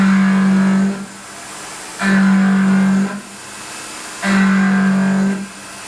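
A Tormach PC CNC mill cutting steel with coolant running, three repeated bursts of steady loud tonal whine, each about a second long, with quieter cutting noise between passes.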